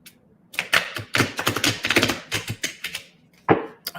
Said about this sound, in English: And get ready to shuffle my cards.